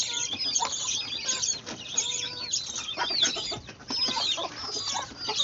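Several chickens cluck and squawk in overlapping bursts, close by and busy, with no voices over them.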